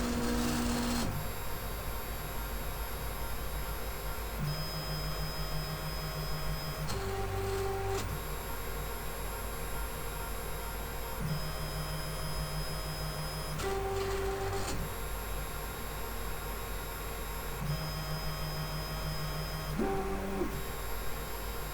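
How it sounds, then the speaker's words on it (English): A 3D printer running a bed-leveling routine, with a steady mechanical whir from its linear bearings and layered motor tones that change pitch every few seconds, punctuated by brief stepping bursts. "You know this noise, I'm pretty sure it's the linear bearings rotating in at least one of the bearings"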